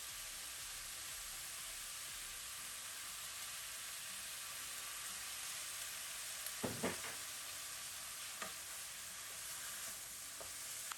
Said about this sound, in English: Here I'm going to add in 2 tablespoons of Chinese cooking wine.